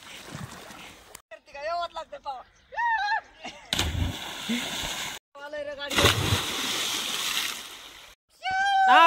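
People swimming in a village pond send up loud bursts of splashing water, broken up by voices chatting and calling out between the splashes.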